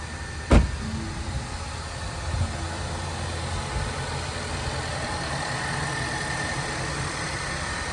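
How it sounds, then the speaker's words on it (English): A used car engine with some internal damage idles steadily after start-up, a sharp click at the start followed by a low continuous hum with faint mechanical noise, fairly quiet and alone. "Now I can hear the engine running."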